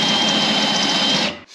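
A power drill with a step bit bores into metal while a homemade battery mount is made for a Chevy rat rod, a loud steady whine up close that spins down and stops at the end.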